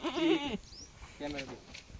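A pregnant goat bleats loudly and shakily up close, followed a moment later by a second, softer bleat.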